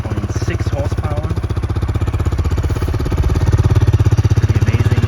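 A Kawasaki KSR110 Pro's small 8.6-horsepower single-cylinder engine runs just after an electric start, a close, steady, rapid putter that gets a little louder toward the end, with faint talk alongside.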